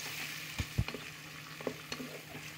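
Chopped onions sizzling in a pan for vegetable rava kichadi, a steady soft frying hiss broken by a few sharp spatula scrapes and taps.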